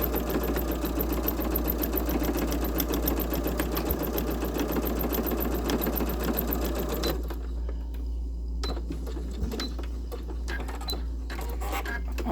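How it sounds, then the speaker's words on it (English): Sewing machine stitching the ends of a fabric grime guard, a fast, even mechanical rattle over a steady motor hum that stops partway, leaving quiet handling clicks and the low hum. "we're just going to sew this ends."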